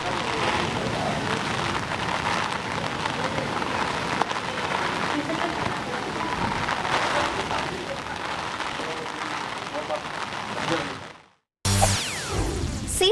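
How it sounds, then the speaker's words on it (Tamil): Heavy rain and strong wind lash the Chennai coast near Marina as Cyclone Fengal approaches, a dense, steady roar of downpour and gusts running loud throughout, cut briefly near the end, with no talk. "அங்கு பலத்த காற்றுடன் கனமழையும் அதோடு கடலும் சீற்றமாக காணப்பட்டு வருகிறது"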